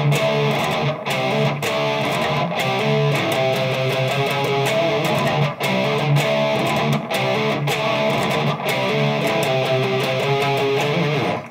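Layered, heavily distorted electric guitars, including a second rhythm part, drive a steady, loud riff with regular accents for over ten seconds. No one talks over it.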